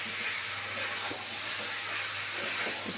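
Vetki fish bones sizzle and fry in spiced masala, giving a steady, close, hissing crackle that holds throughout without talk.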